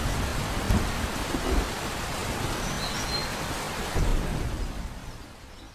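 In a Bengali cartoon scene, steady rain pours down with low rumbles of thunder swelling at moments, a dense, even wash that fades slightly at the end.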